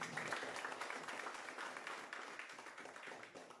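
Audience applause at a motivational business seminar in a Sharjah office, a continuous burst of many hands clapping that holds steady, then thins slightly toward the end; fairly faint overall.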